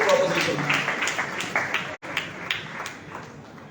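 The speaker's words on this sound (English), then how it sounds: "Ladies and gentlemen, please give a round of applause." Round of applause from the audience at a national moot court valedictory ceremony, steady dense clapping that breaks off briefly midway and then resumes, fairly loud and close, with a voice underneath.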